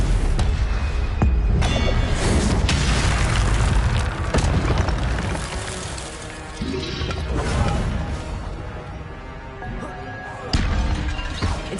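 Incendio fire spells cast repeatedly in the Hogwarts Legacy video game, loud booming bursts and crackling blasts layered over a dense, roaring battle din with little pause.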